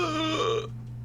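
A single loud burp from a person, a deep voiced belch about half a second long that cuts off abruptly, close to the microphone over a constant low hum.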